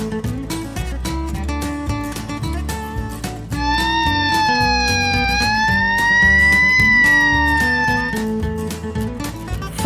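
A toy fire engine's electronic siren wails in a rising and falling tone over a busy, tinny musical loop, loud and close throughout.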